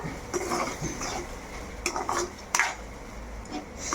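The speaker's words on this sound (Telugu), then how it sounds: "ఒక 5 మినిట్స్ ఇలా తిప్పుకోవాలన్నమాట." Ridge gourd tomato chutney stirred in a pan, a spoon scraping and clinking against the metal in irregular strokes with a few sharper knocks, moderately close under a faint background hum.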